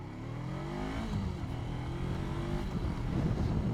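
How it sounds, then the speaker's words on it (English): Honda CBR500R motorcycle with a 471cc parallel twin engine revving up, a steady, fairly loud engine drone that rises in pitch and stays close throughout with no talk. "471cc, parallel twin, doesn't really make that all of exciting of an engine noise"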